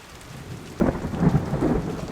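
A thunderstorm outside, with steady rain on surfaces and a sudden rumble of thunder that swells and rolls for over a second, fairly loud with no voices.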